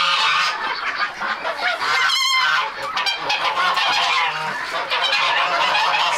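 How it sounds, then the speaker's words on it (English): Geese on a farm honk loudly and repeatedly, a dense overlapping chorus of harsh calls close by, with no talking. "So loud, you guys. It's the geese that are the culprits. They're the loud ones."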